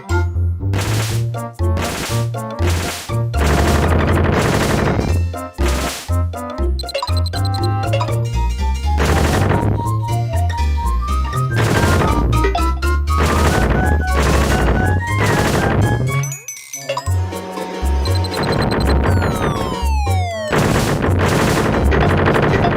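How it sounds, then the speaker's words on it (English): Cans being shot in WarioWare: Smooth Moves, a loud, busy run of rapid shots and metallic clangs mixed with bouncy game music, sustained with only a short break. "this is King Graham here to shoot some cans"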